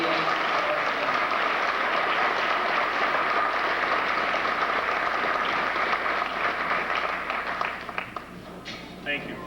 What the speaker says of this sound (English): A round of applause for the UEA.